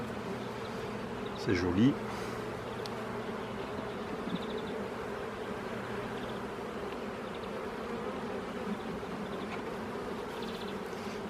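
Honeybees buzzing in a steady, dense drone from an opened hive during a spring inspection, up close throughout, with a brief louder buzz of a nearby bee early on and a person speaking briefly.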